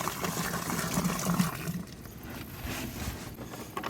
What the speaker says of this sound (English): with antifreeze, pouring in around it.